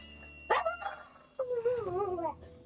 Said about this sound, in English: Why are you barking?